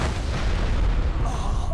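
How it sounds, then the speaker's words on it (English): A deep, rumbling explosion in the video game Enderal roars continuously with heavy low-end boom, loud and close, and no talk over it. "That'll be the explosion."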